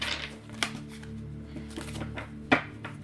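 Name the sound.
shuffling tarot cards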